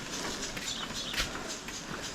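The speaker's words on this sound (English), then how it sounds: "I hear a horse behind me." Horse hooves clip-clopping on a street on Gili T, Indonesia, muffled and steady under broad outdoor noise.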